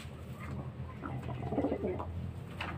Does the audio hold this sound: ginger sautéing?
no